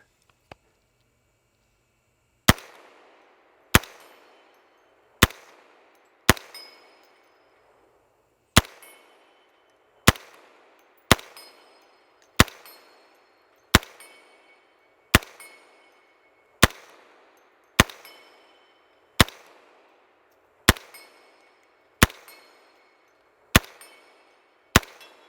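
CMMG Banshee 10mm firing, a long series of sharp, loud individual shots at a steady, deliberate pace, each followed by a brief ringing decay, with no talking between them.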